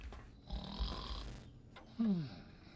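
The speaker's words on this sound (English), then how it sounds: "Is the robot snoring?" A robot snores in the Old World Blues expansion of Fallout: New Vegas, giving a couple of low, rasping, grunting breaths with a louder snort near the end, heard close up.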